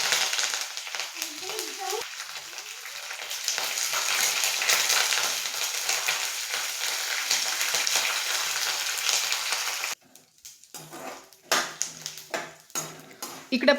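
Curry leaves, garlic and peanuts fry in hot oil for a snack mix, a loud steady crackling sizzle for about ten seconds, then quieter scattered spatters and clinks of stirring with a pan.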